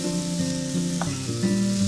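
Ground peas stirred into a sizzling pan for matar dal dhokli give a continuous close sizzle with shifting scraping and stirring tones throughout, no voices.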